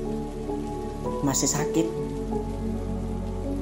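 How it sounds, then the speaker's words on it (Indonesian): Steady rain pattering on a surface throughout, a soft continuous wash behind someone speaking quietly in a mini story. "di bawah hujan yang terus turun"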